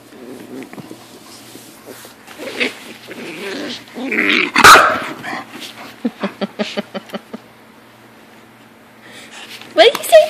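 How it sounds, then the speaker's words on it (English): Puppies growl and yip playfully, followed by a quick run of short barks, with a person talking in between. "Hi, you guys play with Dakota"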